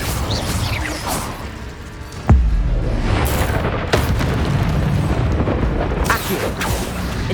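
A spell cast in Hogwarts Legacy produces a loud booming burst with a deep low-end thump, followed by sustained roaring fire and whooshing effects, plus a second softer impact and swishes later.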